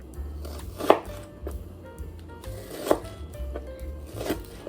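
Three crisp knife chops on a cutting board as an onion is sliced small for a new potato salad, spaced about two seconds apart, close and distinct over a low background hum.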